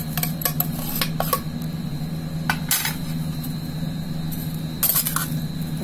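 A spoon stirs pear raita with spices in a bowl, making quick, light clinks and taps against the bowl in short bursts over a steady background hum.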